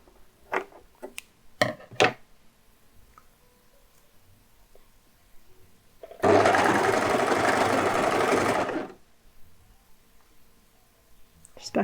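A sewing machine stitches a garment in one sustained loud burst of about two seconds, preceded by a few scattered clicks and handling taps in an otherwise quiet room.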